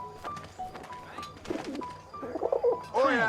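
A pigeon coos in the WWI-era video game 11-11 Memories Retold, its rolling, throaty calls repeating close by over several seconds, swelling toward the end, with faint background game ambience.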